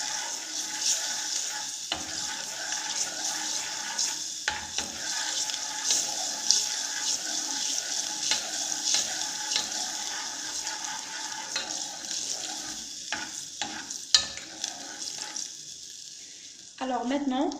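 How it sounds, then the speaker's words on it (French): Butter is stirred into hot caramel in a pan, giving a continuous close sizzle and bubbling with spoon scraping throughout, shifting to a deeper tone at the very end. "Maintenant on va rajouter le morceau de beurre et on mélange."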